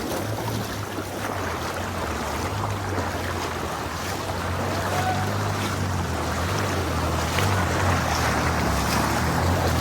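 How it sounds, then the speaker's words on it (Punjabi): Steady, loud rush of floodwater in Ramdas, Punjab, with a constant low rumble and wind buffeting the microphone, no pauses throughout. "ਬੜਾ ਪ੍ਰੈਸ਼ਰ ਆ ਪਾਣੀ ਦਾ ਲੱਗੀ ਇੱਥੇ ਦੇ ਇੱਥੇ"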